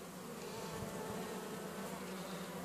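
Honeybees buzz softly on open hive frames during a queen change, a faint, continuous droning hum from many insects with no voices over it.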